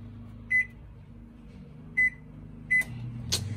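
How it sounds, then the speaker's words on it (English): Three short, clear electronic beeps from a microwave oven used to warm bacon and ham, spaced over a few seconds against a quiet kitchen background. "Now I take the bacon and the ham and I put it in the microwave and I warm it up for 10 seconds."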